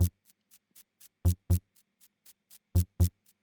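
A broken Russian synthesizer sample, sharp percussive bursts in an irregular pattern with loud hits among fainter ticks, clicky and dry with silence between.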